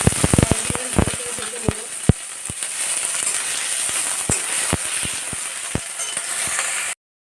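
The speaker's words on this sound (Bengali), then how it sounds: "দেখো আমার পেঁয়াজ ভালো ভাজা হয়ে গেছে" Chopped onions frying in hot mustard oil with a little sugar and salt, for ghugni: a steady close-up sizzle dotted with sharp crackles and pops throughout, with no talking.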